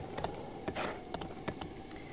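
Horse hooves clip-clop at a steady walking pace in Zelda Breath of the Wild, each hoof strike crisp and close with soft surrounding ambience.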